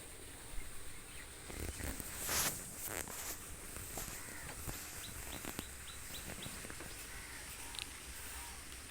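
Common myna birds call along a village road in spring: faint, short chirps repeat in a loose series over quiet outdoor ambience, with a few soft footstep-like knocks.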